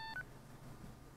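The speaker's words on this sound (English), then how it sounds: "And I bet this was the ringtone that caused it." Cell phone ringtone in the video game Phoenix Wright: Justice for All, a short electronic beep-like tone lasting a fraction of a second over quiet low background hum.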